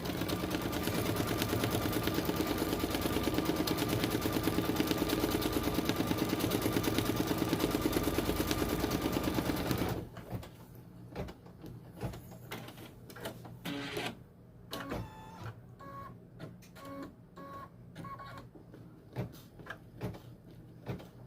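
A single needle embroidery machine stitches a heat-transfer vinyl applique onto a sweatshirt. It runs as a steady, loud mechanical drone at first, then gives way to intermittent clattering and clicking with short pauses.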